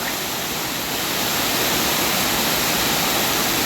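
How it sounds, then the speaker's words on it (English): Upper DeSoto Falls in Chattahoochee National Forest, north Georgia, plunges in several drops into a large pool, a loud, close, continuous rush of falling water with no voices. "we have made it to Upper Falls."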